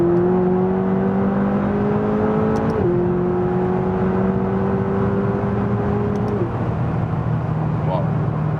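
A McLaren 570 GT accelerates hard on the Autobahn, its engine droning steadily and climbing in pitch through each gear, then dropping briefly at the shifts, heard from inside the cabin under constant road and wind noise.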